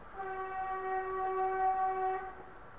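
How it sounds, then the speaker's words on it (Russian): A sustained, tonal train horn blares steadily at moderate distance for about two seconds, heard over a headset during a CS:GO voice chat, with low background hiss. "Кто там сигналит?"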